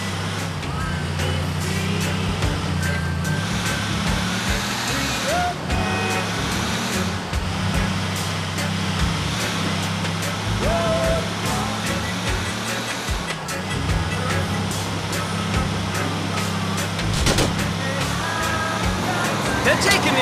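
Car engine hums steadily while driving in GTA IV on PC, with a low drone and traffic noise beneath near-continuous talking and occasional game sounds.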